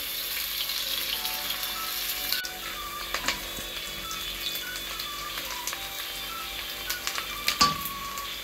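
Onions fry quietly in about three spoons of oil in a pan, a soft sizzle broken by occasional crackles and pops, with no talking.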